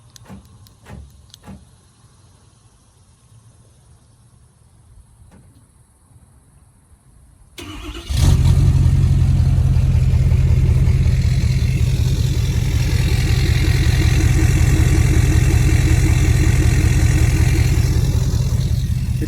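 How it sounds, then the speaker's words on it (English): Ford F250 diesel fitted with a 4-inch race pipe and muffler: after quiet clicks and rustling the starter cranks, the engine fires at once into a loud, steady idle that holds evenly to the end. "So I'm gonna start this up right now and let y'all hear what it sounds like with a 4-inch race pipe"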